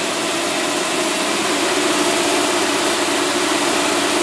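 A car engine running too lean drones in a loud, continuous roar with a broad rushing hiss, holding steady without clear rises in pitch, close up and without voices.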